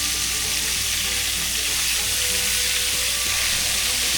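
Pork chops sizzle loudly in a hot cast iron skillet as they are flipped, giving a constant, close, bright frying hiss with no pause.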